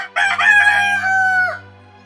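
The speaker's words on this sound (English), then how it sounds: "Immediately a rooster crowed a second time, and Peter remembered" A rooster crows once, loud and close, a single drawn-out call with a rough start and a long falling tone, then a quiet fade.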